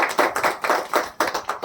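An audience claps steadily to honour a guest at a farewell party for a bar association member, a fast rhythmic run of close claps lasting throughout.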